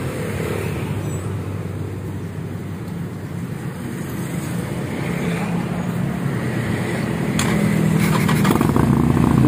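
A Harley-Davidson Roadster 48 with a custom muffler runs as a steady, close engine rumble whose low throb swells louder toward the end, with no talk over it.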